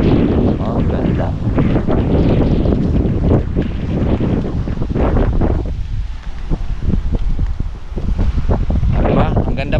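Strong sea breeze on the seashore at sunset roars and buffets against the microphone in a loud, continuous wash, with a voice speaking faintly beneath the wind.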